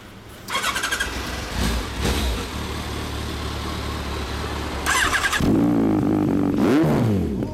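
A motorcycle engine, likely the 2016 Yamaha XJR1300 Final Edition, cranks and fires into a loud, rough idle, then blips up and settles, heard close and alone.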